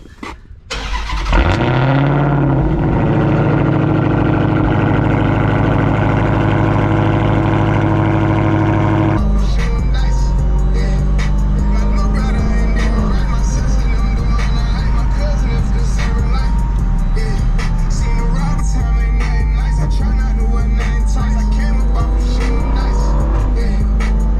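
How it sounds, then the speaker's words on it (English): Dodge Hellcat cold start: a short starter crank, then a loud, booming flare of revs that settles into a heavy, rumbling high idle. After several seconds the idle drops to a deeper, steady burble close to the microphone. "First, we're going to get a little cold start, I guess, for you guys"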